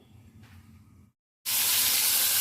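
Crab pieces coated in cornstarch hit hot oil and burst into a loud, continuous frying hiss and sizzle after a brief silence, following a quieter stretch of low kitchen noise.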